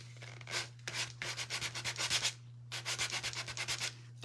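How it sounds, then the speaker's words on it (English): A sander works over a painted surface with blue paint beneath, making quick, rhythmic rasping strokes in two runs separated by a brief pause, close up over a low steady hum, with no talking. "There's my other sander."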